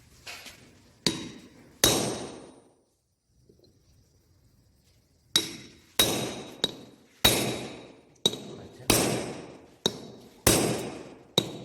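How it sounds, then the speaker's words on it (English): Repeated sharp metallic blows of a ball peen hammer on a chisel cutting away metal in a fitting shop, about ten loud ringing strikes in irregular bursts with a short quiet pause early on. "now with the help of the chisel we will remove this material with the help of the ball peen hammer"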